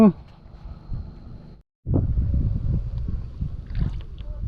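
Strong wind gusts buffet the microphone beside the Songkhram River during lift-net fishing, a loud rumbling roar that cuts out briefly before returning steadily, with people talking over it.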